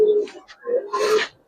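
Giribaz and colored pigeons cooing at a pigeon farm: a few close, soft, throaty coos in short bursts, with faint background chatter.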